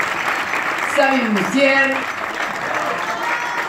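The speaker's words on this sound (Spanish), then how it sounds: "¡Aplauso!" Theatre audience applauding a stage play, steady dense clapping throughout, with a voice speaking over it and calling out names.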